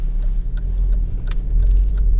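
A 2008 Honda Civic 1.8 i-VTEC EX five-door driving on a road, with a steady engine hum and road noise running throughout at close range, with no talking.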